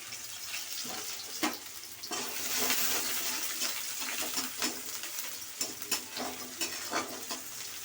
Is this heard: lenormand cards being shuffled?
no